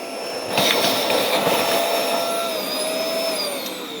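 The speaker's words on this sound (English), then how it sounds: "what I prefer to use is the crevice tool. Every vacuum has one of this narrow tool" A vacuum cleaner fitted with a narrow crevice tool runs loud and steady while cleaning fins, its whining motor shifting pitch slightly as the nozzle moves.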